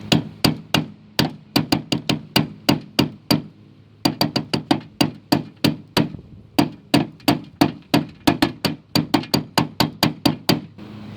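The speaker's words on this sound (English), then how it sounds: "you want to go over it with something and you want to tap it to find out how bad the damage is" Rapid metallic tapping on a rusted car body, dozens of crisp knocks in quick irregular bursts with a brief pause near the middle, close and clear with no talking.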